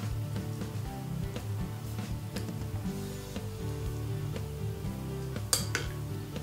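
Marinated tofu pieces are dropped one after another into a dish for an orange marinade, giving a steady run of close, soft taps and clinks against the container with a sharper knock near the end.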